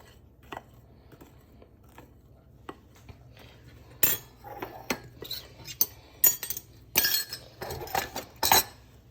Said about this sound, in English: And then give it a good mix. Give it a good mix round.